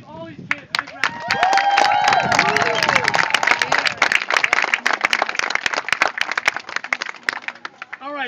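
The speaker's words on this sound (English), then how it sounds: "So parents, let's give all these kids a big round of" Parents applauding children at a kids' team competition, a dense, loud burst of clapping with whoops and whistles early on, continuing steadily to the end.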